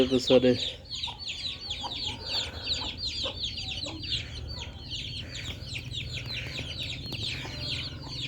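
Chickens, including a black hen, cluck amid a steady stream of high-pitched peeping chirps from many chicks, the chatter dense and continuous from start to finish.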